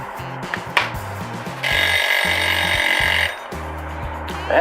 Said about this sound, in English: Now that timer that you heard, that's for the rice.